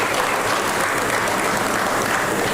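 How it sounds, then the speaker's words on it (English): Steady, dense applause from a large crowd, continuous and loud throughout with no pauses. "So can we all give a massive round of applause for Mr. Vipin Garg once again"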